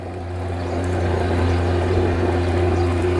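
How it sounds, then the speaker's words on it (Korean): A water pump motor running below a peanut field gives a continuous low, steady hum with even harmonics that holds unchanged for a few seconds, with no voices over it. "밑에 지금 모터가 돌아가고 있는데"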